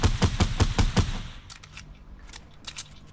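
Gunfire from Fortnite rattles off in a rapid burst of about six sharp, evenly spaced shots, followed by fainter scattered clicks and distant pops, with no talking.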